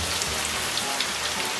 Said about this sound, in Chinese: 接下来咱们把茄子给它下里边，